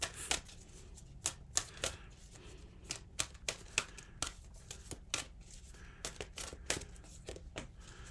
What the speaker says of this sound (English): Let's just pull one oracle card here.